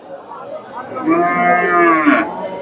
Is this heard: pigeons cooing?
no